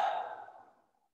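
One slow, soft breath let out during a guided meditation exercise, close and airy, fading gradually to silence.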